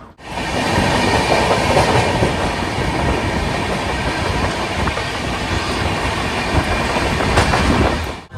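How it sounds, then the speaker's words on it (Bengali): Passenger train pulling out on a trip toward Bolpur Santiniketan, with a continuous loud rumble of carriages rolling on rails and rhythmic clickety-clack of wheels over track joints, steady from start to fade. "ফাইনালি আমাদের ট্রেন ছেড়ে দিল"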